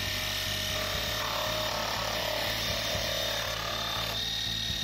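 A power saw whirs steadily through wood for a dovetail box, with a constant mechanical drone and faint rhythmic ticks running throughout.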